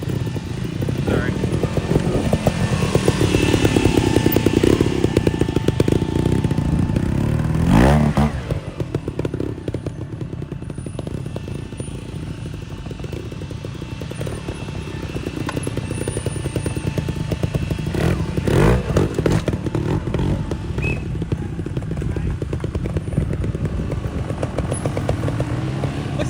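Motorcycle engine running and revving in a trials pit area, a rough buzzing drone throughout with a sharp clatter and thump near the middle, and people talking over it.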